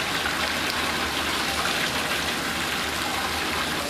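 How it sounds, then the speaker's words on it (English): Water pours steadily into a test tank holding a ProFlex check valve during a flow test, a loud, continuous gushing rush with no pause or voices over it. "the water level is getting higher in the tank"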